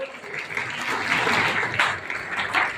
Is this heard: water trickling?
no